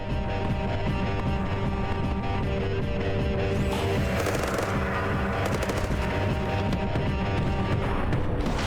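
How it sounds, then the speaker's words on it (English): Rapid automatic gunfire from a weapon in the Badlands Crew video game, aimed at a wall and kept up steadily and loudly, with hard impacts and clattering hits layered over a dense, continuous rumble. "he's definitely shooting the wall in front of him."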